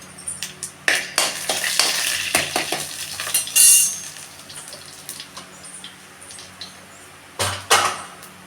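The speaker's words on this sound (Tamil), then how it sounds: "கடலைப்பருப்பு போட்டுங்க, வெள்ளை உளுந்து, சும்மா 2 ஜீரகம் நல்லா செவக்க வறுத்துக்கலாம்" Chana dal, white urad dal and cumin are roasted in a pan, with a soft sizzle under rattling, scraping stirs and a few sharp clinks, close and fairly loud, with no talking.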